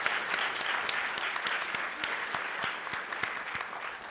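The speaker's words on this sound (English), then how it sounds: "So a round of applause for" An audience at a literary Q&A event claps steadily for several seconds, with dense applause and some individual sharp claps standing out, moderately loud.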